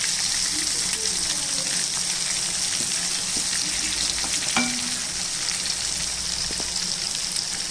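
Food fries in a pan with a constant loud sizzle, broken by a few soft clinks and scrapes as pieces are turned over; no one speaks.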